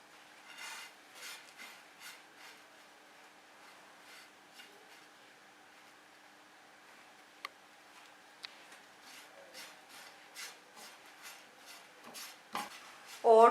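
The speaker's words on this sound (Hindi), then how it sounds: "पैन में मैं डालूंगी ओट्स और इनको मैं हल्का सा रोस्ट करूंगी।" Dry oats being lightly roasted in a pan, with a spatula scraping and stirring in soft, irregular scratches and occasional light clinks, faint and close, with no talking.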